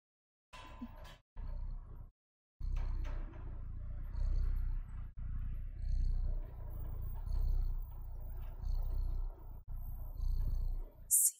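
A cat in the video game Stray purrs up close, a loud, low rumbling that rises and falls in steady breath-like pulses with a couple of brief pauses near the start.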